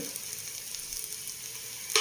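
Turmeric and roasted chilli-coriander powder sauté in a pan with a constant close-up sizzle, and a brief louder scrape of stirring comes right at the end.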